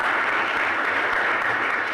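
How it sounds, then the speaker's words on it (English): A church congregation claps together at a Palm Sunday service: dense, steady applause, loud and close, with no break for the whole stretch. "Let's give them a clap offering"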